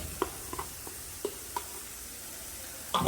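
Quiet frying sizzle of beaten egg for shrimp fried rice, with a handful of light scraping taps from a utensil stirring in a pan, then a louder clatter at the end.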